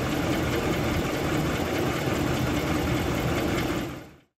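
A 5.7-litre Hemi V8 idles with a rapid, steady mechanical ticking and clatter from lifters or a broken-bolt exhaust manifold leak, close and loud, cutting off abruptly at the end.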